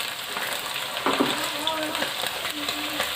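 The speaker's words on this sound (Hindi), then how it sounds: "और प्याज अच्छी तरह से फ्राई हो रहे हैं।" Onions fry in a pan with dry coriander and crushed garlic, giving a steady close hiss and crackle with occasional stirring scrapes. A voice is faintly present beneath the sizzle.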